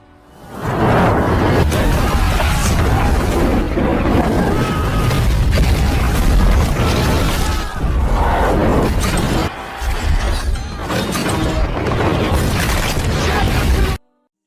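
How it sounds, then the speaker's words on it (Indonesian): Catapult bombardment from the film Kingdom of Heaven, a dense, loud barrage of booming explosions, crashes and whooshes over a constant battle din and distant crowd noise, sustained for many seconds before cutting off abruptly. "Raja Salahuddin menyerang istana itu dengan hantaman bom katampul"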